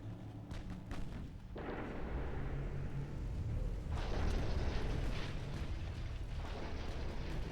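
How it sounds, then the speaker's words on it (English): Battleship guns thunder in the naval warfare game Ultimate Admiral: Dreadnoughts, heavy booming salvos followed by long rumbling, crackling wash, one big blast near the start and another about halfway, all fairly quiet in the mix. "There's some battleship gunfire."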